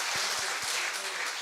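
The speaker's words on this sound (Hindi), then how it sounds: "एक बार जोरदार तालियां" Applause rolls through a Hindi poetry gathering, a kavi sammelan evening: a full, continuous crowd clapping, fairly loud, with a few low thumps near the start.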